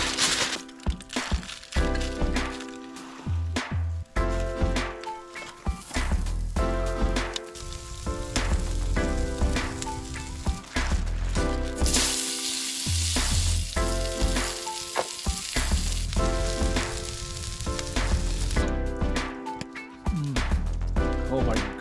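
A tomahawk steak fries in a pan at a winter wilderness campsite, giving a steady close sizzle with crackles and pops that runs the whole time, and a few faint knocks and stirs come through.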